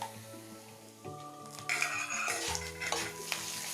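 Whole spices fry in hot peanut oil in a kadai for a chicken gravy, giving a faint sizzle that swells with a few soft stirring scrapes. No voices are heard.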